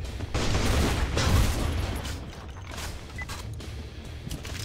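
Gunfire in the CrossFire shooter game, loud, dense bursts of shots during a bomb-defusal round, with booming reports and mechanical clatter in the first seconds, fading into a busy background of lighter game noise.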